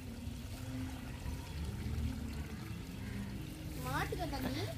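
Water pours into a cattle trough in a steady low trickle and splash, heard under nearby speech, with a brief high chirp toward the end.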